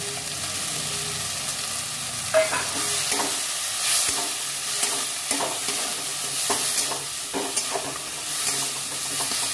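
Spice paste of ground chilli, ginger-garlic paste and pointed-gourd pulp stirred and fried in a pan for stuffing, with steady sizzling and repeated scraping strokes of the spoon throughout.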